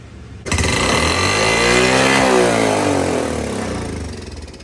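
A 40-year-old Honda ATV engine under repair kicks in abruptly and revs with the throttle, a loud close buzzing whine that climbs and then gradually settles back toward a high, uneven idle.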